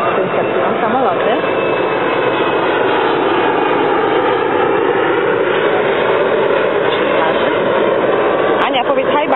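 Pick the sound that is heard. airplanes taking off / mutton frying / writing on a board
airplanes taking off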